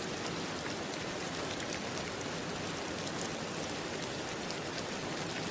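Steady rain pours down evenly, a dense continuous hiss of drops on surfaces, unchanging throughout with no voices.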